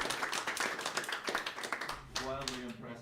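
An audience in a church setting claps in a quick patter of hand claps, with a voice talking near the end.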